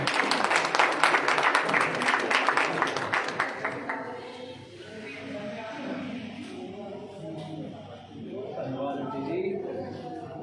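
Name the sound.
applause for lucky draw winner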